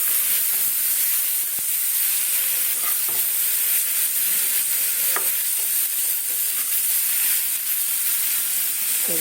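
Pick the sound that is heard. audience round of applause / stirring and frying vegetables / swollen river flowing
stirring and frying vegetables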